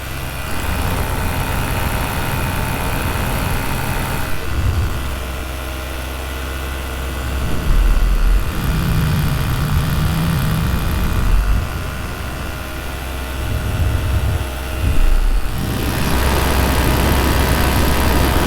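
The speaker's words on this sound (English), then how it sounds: "Start to slow the engine down a bit." A light aircraft engine drones steadily in flight, loud and continuous with a few brief swells in pitch and intensity as it is slowed; the engine has been backfiring.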